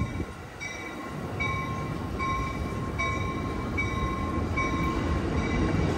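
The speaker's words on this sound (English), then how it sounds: "this is Amtrak 738 Capital Corridor train to Sacramento" An Amtrak Capital Corridor passenger train headed for Sacramento rolls past behind an SC44 Charger locomotive, a steady rumble of wheels and cars with a regular rhythmic clatter and a faint ringing tone repeating throughout.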